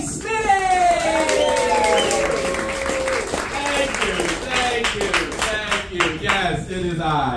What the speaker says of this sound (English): start clapping right now for the very funny Jay Spinning!